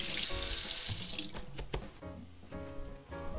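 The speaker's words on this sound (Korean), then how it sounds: "딜은 살짝 씻어 갖고 오겠습니다" Tap water runs into a sink while fresh dill is rinsed under it. There is a steady rushing stream that shifts as the herbs move through it, close by with no speech.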